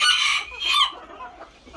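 A rooster crows loudly and close among chickens kept in a bird pen, a strong strained call lasting under a second that trails off into faint clucking.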